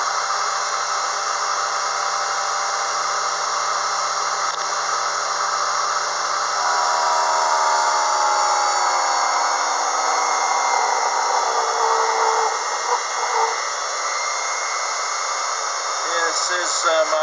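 A Unimat SL-1000 mini lathe spinning around 1600 RPM cuts a half-inch square of hot rolled steel, a steady whining hum and scraping squeal that shifts pitch as the cut bites, with no voices.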